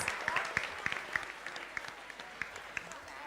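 Audience applause at a quiz grand finale, a steady wash of clapping from a crowd, moderately loud with scattered sharper claps standing out throughout.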